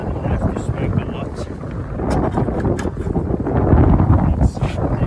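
Strong wind gusts buffet the microphone beside beehives on a summer day in South Africa, a loud, rumbling roar that swells and fades throughout, close and unbroken.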